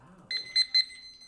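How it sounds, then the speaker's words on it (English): A debate speech timer alarm goes off in a quick series of three sharp electronic beeps, loud and close, following a faint murmur of voices. "His timer scares me every time."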